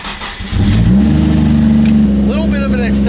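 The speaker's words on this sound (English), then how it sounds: "We're gonna go ahead and crank the car up, see what she does." A stock Toyota Supra MK3, fitted with a standalone ECU, cranks briefly and then fires up, settling into a loud, steady high idle with a rising tone. A voice is heard faintly near the end.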